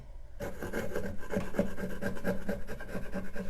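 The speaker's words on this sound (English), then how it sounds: "So scraping back my layers to show what's underneath" A scraper rasping back layers of paint on a wooden piece, a close continuous gritty scraping with a quick repeated back-and-forth rhythm that starts abruptly and keeps going, with no talking.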